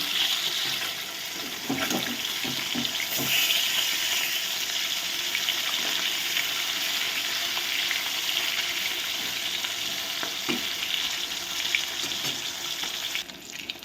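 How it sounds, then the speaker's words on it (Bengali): Rohu fish pieces fry in hot oil in a pan, giving a loud, steady sizzling hiss with a few faint knocks of a spatula and no speech. "দেখো মাছগুলো আমার খুব সুন্দর করে ভাজা হয়ে গেছে"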